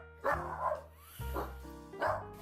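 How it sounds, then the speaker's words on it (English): A dog gives a few barks and yips in a home setting, three short bursts over a steady background hum, fairly close and loud. "like you've been our little guard dog?"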